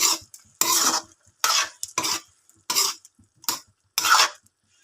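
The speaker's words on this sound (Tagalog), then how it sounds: "haluin natin" A spoon stirs adobong takway in a pot in seven distinct scraping strokes, each a short burst with brief silent gaps between, close and clear with no talking.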